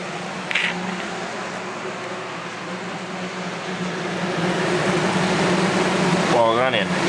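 A vintage 1980-81 Galaxy 12 inch box fan motor runs with a steady mechanical hum and airy whoosh that grows slightly louder toward the end, with a brief whine near the finish.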